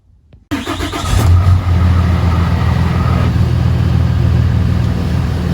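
A 4th-generation Ram 2500 truck engine cranks and catches after a brief silence, then settles into a loud, steady idle rumble close by with no talking.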